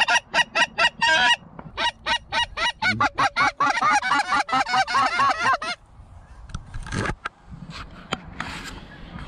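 A flock of geese honks loudly and repeatedly as the birds come down to land, calls overlapping in rapid bursts, then fading to scattered calls and rustling.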